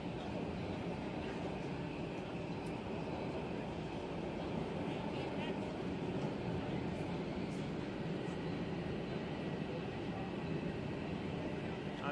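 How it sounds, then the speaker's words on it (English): A train rumbles past at close range outside a New York City building, a steady broadband roar that holds for the whole stretch without fading. "Hold on for the train."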